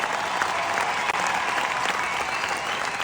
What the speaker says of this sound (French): On peut l'applaudir encore une fois, s'il vous plaît, Redouane qui fait le show ce soir.